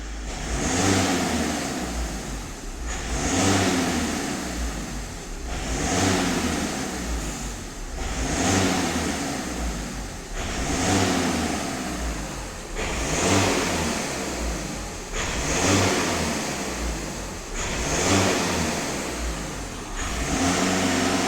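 A VW Caddy 2.0 TDI diesel engine is revved repeatedly to about 2500 rpm, each rise and fall coming in a regular cycle roughly every two and a half seconds, close and steady with no talk.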